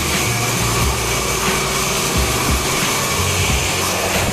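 A machine in an Indian sawmill sharpens a saw blade with a steady, dense grinding whir, loud and continuous at close range and without pauses, with no one speaking over it.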